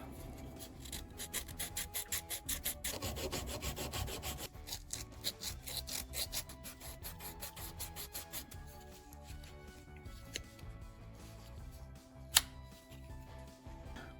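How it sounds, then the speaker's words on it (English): An old knife handle is sanded by hand during refurbishing, with rhythmic back-and-forth rasping strokes close by, steady at first and then slowing to scattered rubs with one sharp knock near the end. "Do a little more sanding back here."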